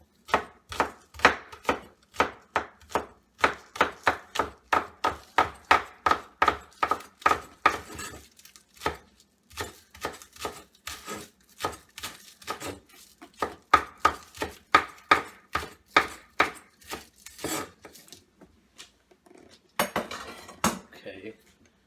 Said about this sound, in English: I'm going to cut 2 green onions or scallions to garnish it